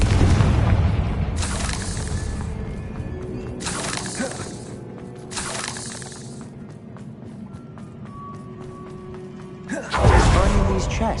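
A Confringo fire spell blast in Hogwarts Legacy, heard as several loud booming bursts spaced a couple of seconds apart, with a final heavy explosion near the end over game ambience and voice.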